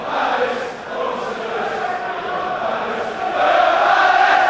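Steady roar of a large football crowd at Selhurst Park during a 1990 ZDS Cup semi-final between Crystal Palace and Chelsea, a continuous broad murmur that swells louder toward the end, with no talk over it.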